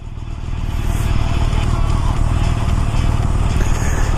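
Motorcycle on a dark, cold morning commute to work, engine rising to a loud steady rumble with wind noise, close and continuous.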